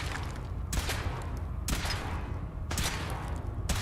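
Weapon fire from a power armor suit test in Fallout 4, sounding as three sharp broadband bursts spaced about a second apart over a steady low rumble, with no talking.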